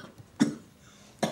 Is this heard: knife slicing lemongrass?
no